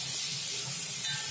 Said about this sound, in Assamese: সেইখিনি এতিয়া মই মিক্স কৰি ভালদৰে ভাজি ল'ম।